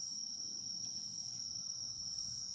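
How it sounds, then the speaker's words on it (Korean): Crickets and grass insects chirp steadily at night in early autumn in rural Jangheung, South Korea, a continuous high-pitched trill, with a soft low background murmur and no other sounds. "여러 풀벌레 소리가 들립니다."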